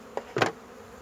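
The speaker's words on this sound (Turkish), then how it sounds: "Bu arada erkek arılarımız çıkmış. Erkekler dolaşıyor." Honeybee drones moving about inside an open beehive, a short soft buzz followed by a louder, fuller buzzing burst lasting a fraction of a second, close by with no talk.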